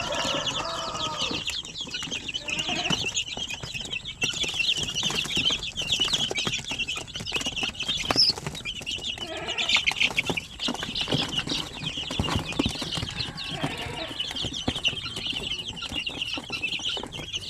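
Young chicks hatched from an incubator chirp continuously in a dense, close chorus of high peeps, with occasional clucks and wing flapping throughout and no talking.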